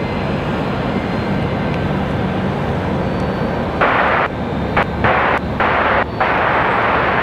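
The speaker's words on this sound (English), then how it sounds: "Coming in from Boston, another A220-300 for JetBlue." A JetBlue Airbus A220-300 arrives from Boston as a loud, sustained jet engine rumble, close and dense throughout, with a few short bursts of brighter hiss near the end.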